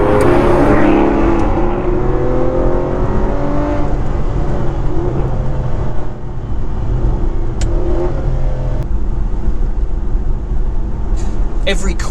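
An Aston Martin Rapide AMR pulls hard after dropping a couple of gears on an open road, its engine note rising steadily and loud from inside the car, with a voice talking over it.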